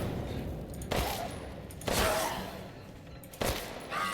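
Gunfire in the video game Resident Evil Village: three loud, sharp shots spaced about a second apart, each with a long reverberant tail over a steady game ambience, with no talking.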